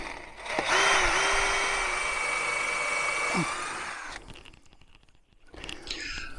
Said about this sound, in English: I took my time when drilling this hole